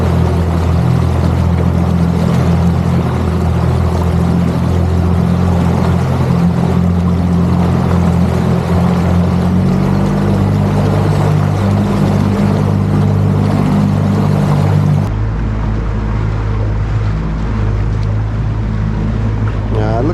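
A boat motor drones steadily and loudly throughout, a constant low rumble with wind and water noise, the engine pitch shifting partway through.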